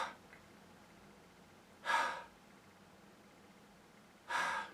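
Voice imitating strange laboured breathing, two separate sharp, raspy gasping breaths spaced a couple of seconds apart over a quiet background.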